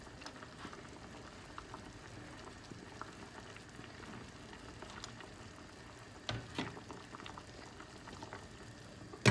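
Artichokes and mixed vegetables simmer gently in olive oil in a pot, giving a steady low bubbling and crackle with occasional small pops, fairly quiet and continuous with no talking.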